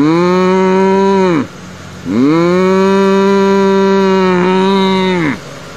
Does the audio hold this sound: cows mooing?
yes